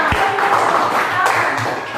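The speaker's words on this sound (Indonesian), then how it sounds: "Tepuk tangan untuk Nisa." A small classroom group claps together for a pupil during a lesson, with a few distinct early claps and voices talking over the clapping throughout.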